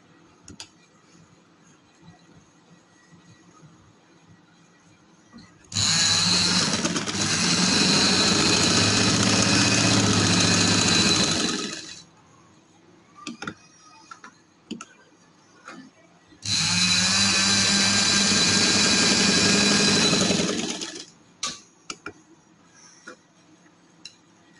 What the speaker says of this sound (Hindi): लो अब मैं सिलाई करती हूँ।